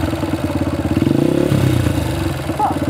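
A dual sport motorcycle engine runs steadily close by while the throttle is blipped, giving a loud, rough mid-pitched idle that lifts into a short rev and then settles back down.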